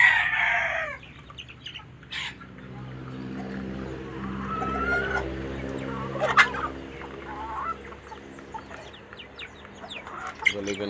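Chickens cluck in a farmyard while a rooster crows loudly nearby, with further calls and crows scattered through the morning scene and a voice speaking briefly.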